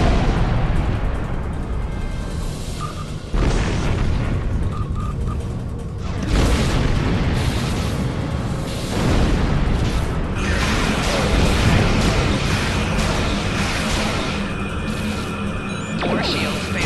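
Starship combat in Star Trek Online fills the clip with loud, dense booming explosions and weapon blasts that roll on without pause, with heavy low rumble and occasional sharp bursts.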